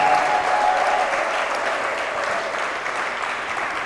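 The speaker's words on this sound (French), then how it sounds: "Bénissons l'Éternel par les acclamations." A church congregation at an evangelical service breaks into sustained, dense applause and cheering, a loud continuous roar of many hands that holds steady throughout, with no clear speech above it.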